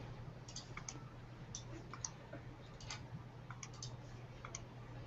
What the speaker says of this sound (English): There's some frantic typing going on. Some very loud typing.